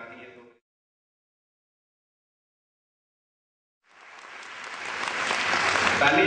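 An audience bursts into applause after a speaker's brief remarks and a long silence, the clapping swelling from scattered to loud and sustained at an event in Kannauj district.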